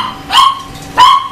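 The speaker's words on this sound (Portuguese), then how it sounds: "A minha cadela tá me irritando." A female dog barks twice, sharp and close, with about half a second between the barks.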